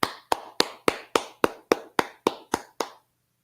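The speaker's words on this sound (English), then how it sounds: "Let's clap it up." About ten single claps ring out one after another at an even, quick pace, each sharp and close, then stop, leaving a brief silence at the end.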